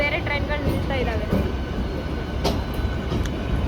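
Trains standing at a railway platform near a MEMU train, a busy low rumble with metallic clanks and brief squeal bursts, people talking over it.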